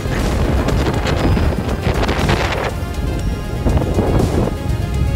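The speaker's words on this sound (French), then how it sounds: "il y a du vent, il y a tout." Strong wind buffets a microphone outdoors on the coast of Galicia, a steady loud roar with gusty swells throughout and no talking.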